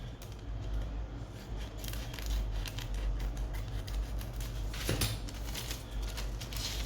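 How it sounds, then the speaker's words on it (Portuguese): Scissors cutting along the outer lines of a paper pocket pattern, a steady run of close, soft snipping and rustling with no talk. "Cortar somente as linhas externas do meu bolso."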